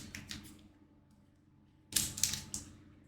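Marvel Spider-Man Metal card pack being cut open, quiet clicking snips and crinkling foil in two short bursts separated by a pause, close and faint.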